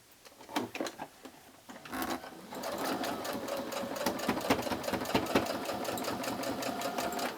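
A sewing machine stitches quilt fabric pieces for a small quilt, starting with a few short bursts and then running in a steady, fast mechanical whir with rhythmic needle ticks, close and moderately loud.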